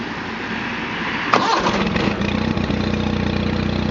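A John Deere 318 lawn tractor engine cranks and catches partway through, then settles into a steady, even idle over a low background hum, close and loud, with no talk.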